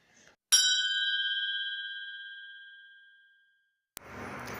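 A single bright notification bell dings once and rings out with a long, clean, fading tone for about three seconds, then cuts off before other sound begins.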